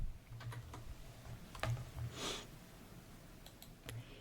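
Soft, sparse clicks of fingers on a computer keyboard as ipconfig is typed, a few separate keystrokes in a quiet room with no one talking.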